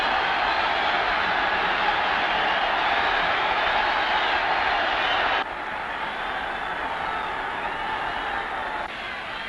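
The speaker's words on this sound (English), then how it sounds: "And listen to the crowd roar." A broad, steady roar from a big football crowd after a Kilmarnock goal against Eintracht Frankfurt in a Fairs Cup tie, sustained and loud throughout, dipping slightly partway but never letting up.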